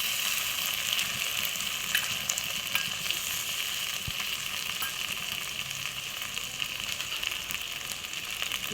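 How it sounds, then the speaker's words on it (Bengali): Sliced onion with ginger-garlic paste fries lightly in a pan, giving a steady, close, bright sizzle with soft stirring scrapes throughout and no voices. "পেঁয়াজটা বেশি ভালো যাবে না, হালকা ভেজে নিচ্ছি।"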